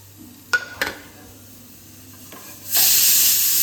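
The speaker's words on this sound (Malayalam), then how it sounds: "ഉള്ളി നല്ലോണം പൊരിഞ്ഞ് ഗോൾഡൻ കളറായിട്ടുണ്ട്" Onions deep-fry in hot oil for a Vadakara beef biryani: a couple of sharp utensil clanks, then a loud, steady sizzle that bursts up close near the end.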